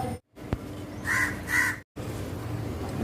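A crow near its nest gives two short, harsh caws close by, with quiet background hum and a brief click before them.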